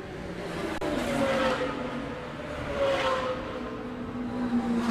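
GT race cars circling a track, engine drone rising and falling as cars pass at a distance, with a faint whine of gear changes and no talking.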